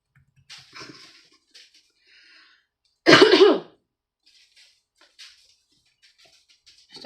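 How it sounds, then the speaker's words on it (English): A single harsh cough and throat clear bursts out loudly at close range, framed by faint scattered background noises in an otherwise quiet room. "Still coughing too."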